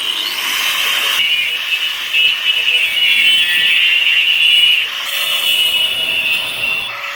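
A steel patch is being cut for a Jaguar XJ X300 body repair, and the power tool gives a steady, loud, high-pitched whine that runs continuously and dips slightly in tone partway through.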